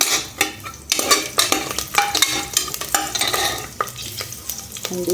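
Cashews and green chillies fry in a pan for kuska rice, with a steady sizzle under rapid metal spoon scrapes and stirring clatter close by.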